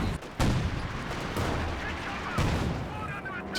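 An anti-tank gun fires in a Company of Heroes 2 battle, with heavy booming shots at intervals over a dense rumble of background combat.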